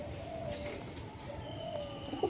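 Desi high-flying pigeons at a sale coo repeatedly in moderate, rolling calls, a couple of separate coos drifting over a quiet, steady background.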